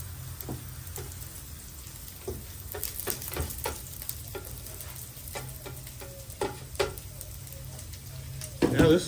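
Slices of bologna fry on a camping griddle with a soft steady sizzle, scattered pops and spatula clicks, and a louder scrape near the end.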